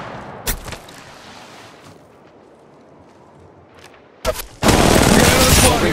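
Gunfire bursts from the mobile game Apex Legends Mobile: a sharp shot early, a quieter stretch, then loud sustained rapid firing that fills the final second and a half.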